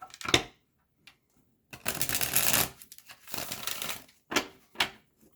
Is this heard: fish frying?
no